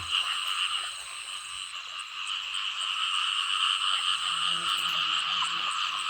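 A dense, steady chorus of frogs croaking in a rice field flooded by heavy rain at night, continuous and fairly loud with no voices over it.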